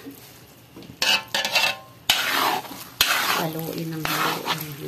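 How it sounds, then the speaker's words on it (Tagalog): A thick coconut milk and sticky rice mixture for biko being stirred in a pan, with scraping utensil strokes and clanks against the metal over a soft sizzle, fairly close. "haluin ang haluin hanggang magdikit talaga sila ng husto"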